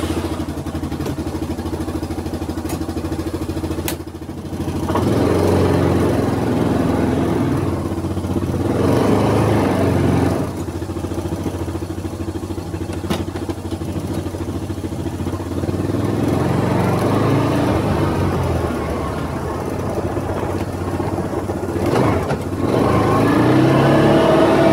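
A Yamaha Viking UTV engine drones loudly and steadily while driving off road, with surges of revving and clattering from the vehicle, close and continuous with no talking.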